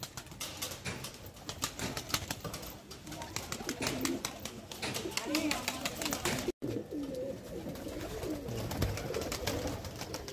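Kaldoom pigeons coo in a loft, with low throaty cooing running steadily throughout among rustling and scattered clicks, close and moderately loud, and a person talks over part of it.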